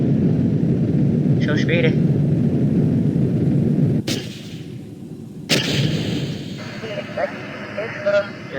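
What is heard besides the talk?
spacecraft parts exploding in a video game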